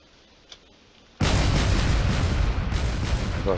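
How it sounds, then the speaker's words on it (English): Cannons boom in the space battle game Drone Wars, a sudden loud barrage that erupts after a faint pop and keeps rumbling with overlapping blasts and bursts. "There's already some cannons being fired."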